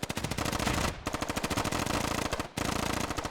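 Sustained automatic gunfire from U.S. forces in the video game Squad, a heavy machine gun firing long rapid bursts with two brief gaps, loud and close throughout.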